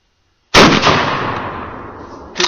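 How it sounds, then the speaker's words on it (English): A single loud shotgun blast firing birdshot at a t-shirt outdoors, a sharp crack followed by a long decaying echo, then a second fainter thud near the end. "Now I'm going to blow away this t-shirt with my shotgun."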